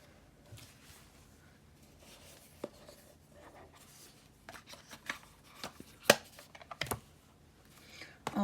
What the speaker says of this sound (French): on retourne ces cartes-là